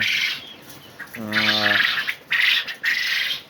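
Quail on a farm, troubled by severe cold, give a short harsh squawking call amid bursts of hissy rustling and fluttering, close by and fairly quiet.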